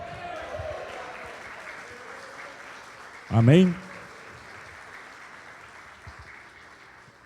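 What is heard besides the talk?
church congregation applause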